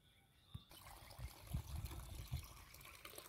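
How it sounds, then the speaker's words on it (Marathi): Irrigation water runs to a lime tree in a village yard with a faint, steady trickle and low splashing, quiet and without talk. "कसं आपल्या लिंबोणीला पाणी चाललेलं आहे"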